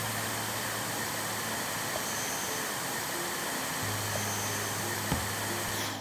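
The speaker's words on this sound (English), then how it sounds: "Now we need to vacuum." A vacuum cleaner runs in the video game House Flipper 2, a constant loud whooshing roar with a steady low hum, unbroken for the whole stretch and ending in a brief tick before cutting off.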